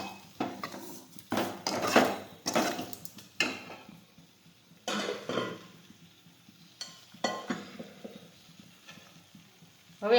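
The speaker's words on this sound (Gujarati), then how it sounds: "હવે બધો મસાલો છે તે મિક્સ કરી દઈશું" A spoon scrapes and clinks in a metal pot as masala is stirred together with lemon juice for urad dal, giving repeated close, irregular clatters and scrapes with short pauses between.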